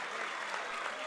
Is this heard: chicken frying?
no